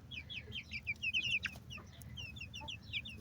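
Chickens on a village farm in Ukraine's Sumy region cluck in quick, overlapping bursts close by, over a faint low background hum.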